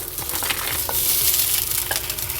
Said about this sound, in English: The first step in making this gravy is to just brown the breakfast sausage in the pan.